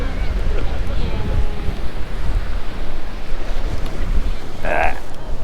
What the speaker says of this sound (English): Oh, it's windy now.